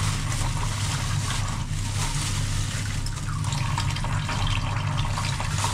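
Tap water pours steadily into a sink over frozen food being washed, a dense continuous splashing rush that stays loud and close throughout.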